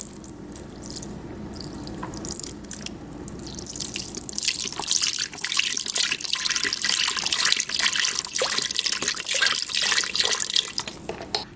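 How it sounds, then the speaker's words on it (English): Beef broth pours steadily into a pressure cooker with Southern-style oxtails, a close, continuous splashing and trickling that grows fuller after a few seconds and runs to the end. "I'm just gonna put about 2 cups of beef broth."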